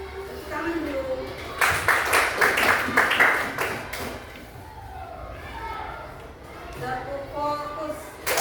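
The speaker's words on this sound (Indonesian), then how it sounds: "Oke, tepuk tangan dulu." A class of fifth-grade students claps in a chanted rhythmic pattern, with bursts of brisk hand claps mixed with group voices in a classroom.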